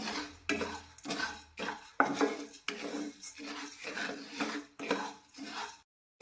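Whole millet and other ingredients roasting dry in a pan for the Gujarati dish agmagiyu, stirred with a utensil that scrapes and clinks against the metal in repeated bursts, fairly close and loud, with no talking.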